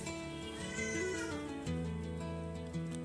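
Several cats meow one after another at feeding time, up close. The calls are drawn-out and wailing and overlap almost continuously for about three seconds, with no talk over them.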